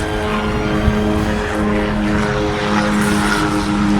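A steady, loud engine drone with a rumbling low hum fills the whole stretch as a helicopter passes close overhead on the Pacific Crest Trail.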